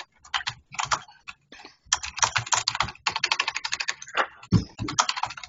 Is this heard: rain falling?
no